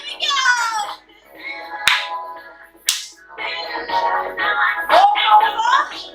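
Hand claps during a Halloween-themed virtual fitness class, a few sharp isolated claps standing out between stretches of instructor talk and music.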